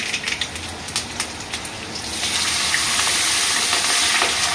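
Hilsa fish dropped into hot oil with black cumin and dried chili, crackling in scattered pops at first, then swelling into a loud, steady, close sizzle of frying.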